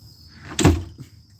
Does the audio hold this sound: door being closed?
yes